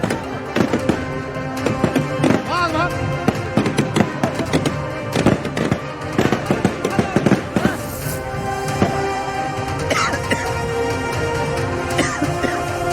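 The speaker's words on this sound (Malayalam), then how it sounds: "പടക്കം പൊട്ടിയതിന്റെ ഒരു പുകപടലങ്ങൾക്കിടയിലാണ്" Firecrackers bursting at an NDA election victory celebration in Bihar, a dense, continuous crackle of loud pops and bangs with a sustained roar of festive noise throughout.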